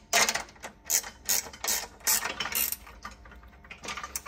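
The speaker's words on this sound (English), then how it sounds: "I will tighten this up. So just get your nose cone straight." A ratchet wrench tightens the nut on the nose cone fitting of a Rack N Roll double e-bike carrier, making close, repeated bursts of clicking strokes with short pauses between them.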